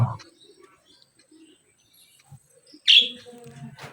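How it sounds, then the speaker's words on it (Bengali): One short, bright bird chirp stands out against a mostly quiet background, with faint rustling and murmuring around it. "যেহেতু আমি পাখিটাকে নতুন নিয়ে এসেছি"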